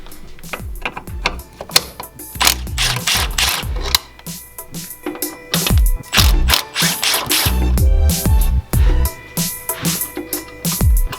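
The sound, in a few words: ratchet removing bolts from 2018 Honda Accord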